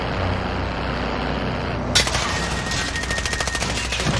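Rapid automatic gunfire in a Call of Duty Plunder match starts abruptly partway through, a fast, loud rattle of repeated shots over steady background game noise.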